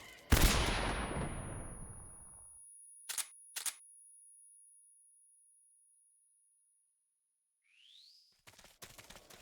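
Gunfire in Metal Gear Solid 3 booms out loudly and rings down into a long fading echo, then a quick pair of shots and a later burst of rapid cracks follow, set against near silence.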